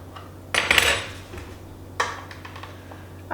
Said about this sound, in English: cut the strawberries in half and stack them together